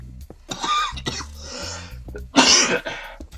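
A few harsh coughs from a sick person, close and loud, with a burst of throat-clearing rasp partway through and brief pauses between.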